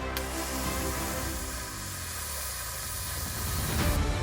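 A blowtorch caramelizing sugar on top of a butter-fried torrija, a Spanish Easter dessert, giving a continuous close hiss and roar that holds steady for several seconds.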